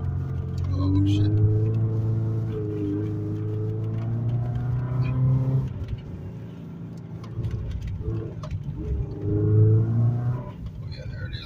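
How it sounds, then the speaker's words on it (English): A car drives and does donuts in the snow, its engine droning and revving in long swells. Excited voices talk over it the whole time. "We like driving in the snow."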